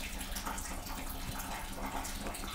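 During a jal neti nasal rinse, water runs out of a nostril in a steady splashing trickle. The stream is close and continuous throughout, with no talk over it.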